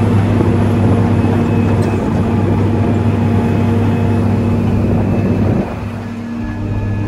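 Motor grader driving in fifth gear while clearing snow ridges with the blade slightly raised: loud, steady, close diesel drone with a humming cab tone that drops in level near the end.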